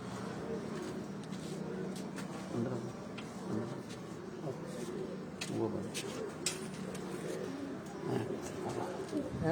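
Galwa pigeons coo in low, soft, repeated murmurs at close range, with someone talking over them in steady speech and faint ticking in the background.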